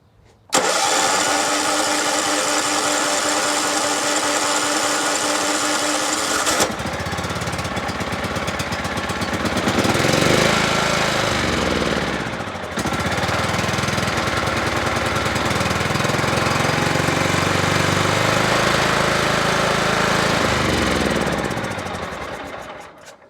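A John Deere LT133 lawn tractor engine cranks, catches and keeps running on choke, a loud, close, steady mechanical chugging with a slightly knocking rhythm and some uneven surges.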